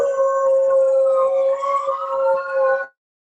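A dog howls in one long, loud, wavering cry lasting about three seconds, close to the microphone with no other sounds, then stops abruptly.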